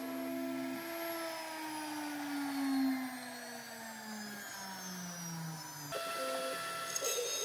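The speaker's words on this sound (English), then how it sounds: "Here we're milling the magnet pocket for the secret compartment key." A CNC router mills a magnet pocket in a wooden jewelry box, giving a steady high whine over a constant motor hum, with the pitch drifting slowly downward and shifting as the cut changes near the end.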